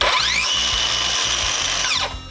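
A Dnipro-M DSC-201BC cordless left-blade circular saw with a die-cast aluminium base spins up to a loud, steady, high-pitched whine. After about two seconds it winds down, close up with no talking.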